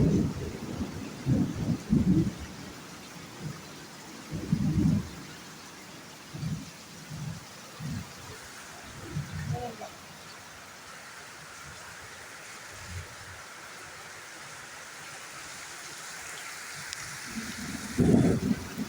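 Steady rain hiss with repeated low rumbles of thunder, some close and heavy, others softer and distant.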